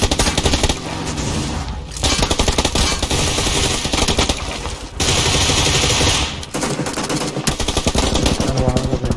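Dense, loud automatic gunfire in PUBG Lite, sustained bursts broken by brief gaps across the span, with no talk over it.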